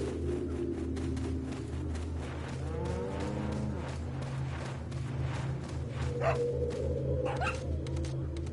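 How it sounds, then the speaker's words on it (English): A dog in the Resident Evil 4 video game makes repeated low barks and whines over a steady droning game soundtrack, with no talk. "Not sure what that dog's up to."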